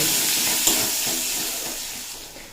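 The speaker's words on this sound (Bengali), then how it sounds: "পেঁয়াজটা বেশ নরম হয়ে যাওয়া পর্যন্ত ভেজে নিয়েছি" Chopped onions frying in a pan until soft, a close steady sizzle with a light scrape of stirring partway through, fading slightly toward the end, no voices.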